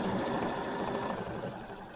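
An embroidery machine quilting a small white mini quilt, running with a steady close mechanical whir and rapid rhythmic needle clatter throughout.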